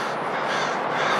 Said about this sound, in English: Crows are beefing.